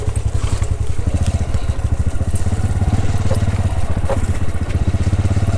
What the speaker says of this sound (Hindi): इधर से बाइक मोड़ लेते हैं जी।